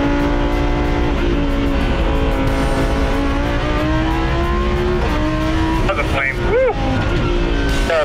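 A supercar with a flame-tune exhaust idles and revs loudly, a steady droning engine note that rises and falls before sharp pops and crackles near the end, with people talking over it.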